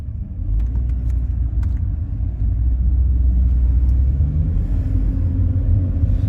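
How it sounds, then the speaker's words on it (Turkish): A BMW 116i hatchback's engine revving as the throttle is pressed, a steady, loud low rumble from inside the car with no talk. "Gaz tepkimesi yani şöyle söyleyeyim basıyorum gaza. Gerçekten gaza basıyorum."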